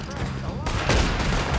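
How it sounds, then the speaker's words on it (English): Gunfire in the video game Red Dead Redemption 2 comes as a quick burst of overlapping shots that is loud and close, mixed with a voice and game sounds. "they start clean shooting at you"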